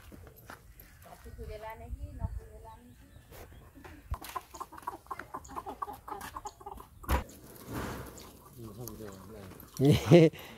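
People talk while a rooster and hens cluck nearby, ending in a loud burst of crowing calls.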